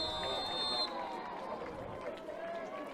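Outdoor crowd of spectators at an ultimate frisbee open grand final, a steady broad murmur of voices and activity with a faint high tone early on, continuous and moderately distant.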